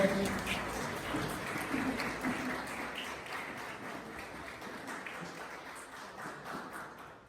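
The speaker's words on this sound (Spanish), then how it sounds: "Y recibamos un fuerte aplauso, por favor." Audience applause at an evening church gathering, a moderate spread of clapping that starts fullest and slowly thins over several seconds, heard a little way off.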